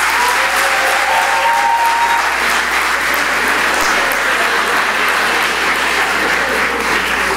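Audience applause fills a curtain call at a Love Sax and All That Jazz stage show, loud and continuous from start to finish, with a dense crowd roar that holds steady the whole time.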